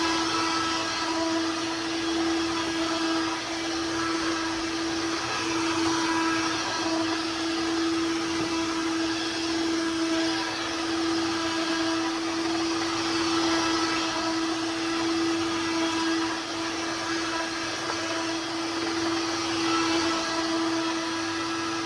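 A Dirt Devil Quick Up 3-in-1 stick vacuum runs continuously at close range, giving a steady, loud motor whine with a constant high tone and an airy hiss and no pauses.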